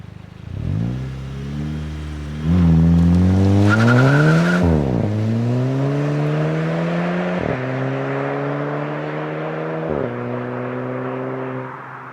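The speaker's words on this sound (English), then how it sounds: "it just adds a little bit of tone to the exhaust" A Volkswagen MK5 GTI engine with a resonator delete revs up and settles into a deep, throaty exhaust drone with a raspy tone, rising and dipping in pitch several times, close and loud.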